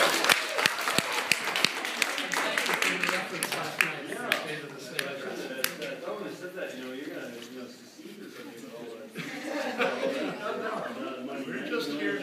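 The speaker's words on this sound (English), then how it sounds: "Applause for all the teams from the great city of Rochester" Audience applause for the governor of Minnesota and teams from Rochester at a gathering with teens, dense clapping spread across the room with sharp individual claps early on, voices mixed in throughout.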